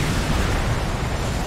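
Artillery fire in Earth Defense Force 5 lands as a sustained, loud explosive roar, a dense rumbling wash of blast noise that fills the whole moment with no voices over it.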